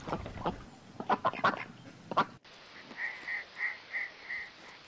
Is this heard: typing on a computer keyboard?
no